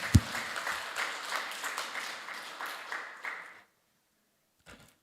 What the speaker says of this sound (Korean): 하고 나면 주님께 영광의 박수 올려드리겠습니다